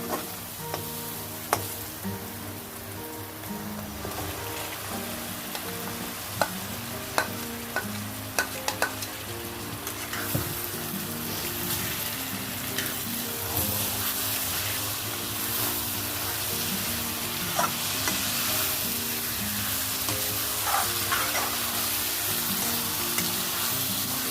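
Chicken pieces frying in a hot pan for home-style chicken curry, a steady close sizzle with repeated scraping stirs and clinks of the spoon against the pan throughout.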